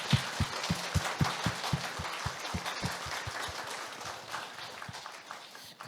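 A church congregation applauds during a Sunday service, with rhythmic unison clapping at a brisk steady beat merging into a broad wash of applause that carries on for several seconds, fairly distant in a large room.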